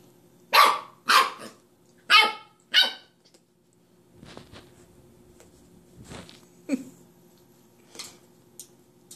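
A Scottish Terrier puppy barks at its own reflection in a mirror, four loud sharp barks in quick succession, then softer scattered growls and yips with a little quiet talk.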